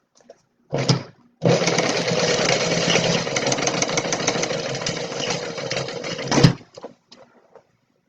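A sewing machine runs in one short burst, pauses, then stitches steadily for about five seconds while boxing the corners of a tote bag, loud and close with no talking.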